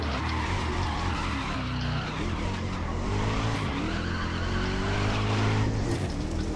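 A race car spins out in the racing game GRID, tires squealing and skidding over a loud, continuous engine drone that rises and falls for several seconds.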